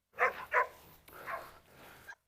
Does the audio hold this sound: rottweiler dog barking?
yes